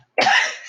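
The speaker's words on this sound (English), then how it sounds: "excuse me for my cough" One short, harsh cough from a person, close and fairly loud, cutting abruptly out of silence and tailing off quickly.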